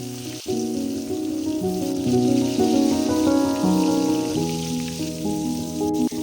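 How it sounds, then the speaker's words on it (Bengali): Green plantains fry in hot oil, giving a steady, close sizzle that runs through the whole stretch beneath prominent background music. "খুব ভালোভাবে ভেজে তুলে নেব।"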